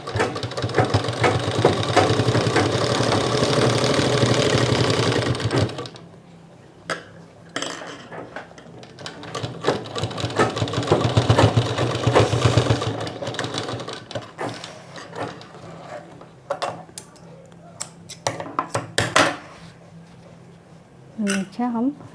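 A sewing machine stitches elastic onto fabric for sharara pants, running in loud whirring bursts separated by pauses while a person talks between and over the stitching.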